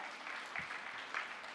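Church congregation at a Sunday service applauding in praise, a fairly faint but continuous patter of many hands with a few louder swells, heard from some distance.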